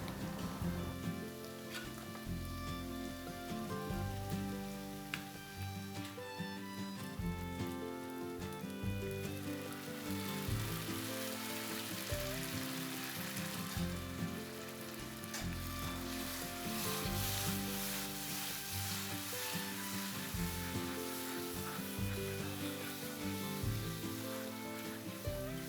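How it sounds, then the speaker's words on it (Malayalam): Masala paste stirred into sautéed onions in a pan while preparing pearl spot fish pollichathu sizzles steadily and fairly loudly throughout, a continuous frying hiss with soft stirring scrapes and no talk. "അരച്ചു വെച്ചിരിക്കുന്ന അരപ്പ് ഇതിലേക്ക് ചേർത്ത് കൊടുത്തിട്ട് നന്നായിട്ട് ഇളക്കിയെടുക്കാം"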